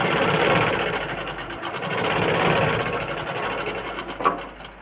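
A sewing machine stitches fabric in a steady, close, continuous mechanical whir with a fine rapid rhythm, slightly varying in intensity, with one brief clack near the end.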